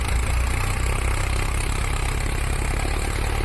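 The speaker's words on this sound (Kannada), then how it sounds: "ಇಲ್ಲಿಂದ ಲೋಡ್ ಆಗಿದೆ ಗಾಡಿ. ಫಸ್ಟ್ ಗೇರಲ್ಲೇ ಬರ್ತಾವ್ರೆ, ನೋಡಬೇಕು ಏನಾಗುತ್ತಂತ." A loaded goods vehicle labours uphill in first gear, its diesel engine droning low and steady at close range, rough and continuous with no talk.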